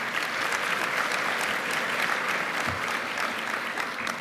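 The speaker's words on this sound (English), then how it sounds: "So everybody give them a round of applause." Audience applause at the opening session of a GIS conference, a sustained crackle of many hands clapping at a moderate distance, steady from start to finish with a faint murmur underneath.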